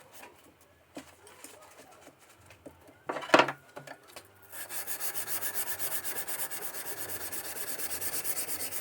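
A new English-style paring knife for bookbinding is honed on a stone: quiet sporadic rubbing at first, then from about four and a half seconds a steady, close, rhythmic back-and-forth scraping strokes that fill the rest.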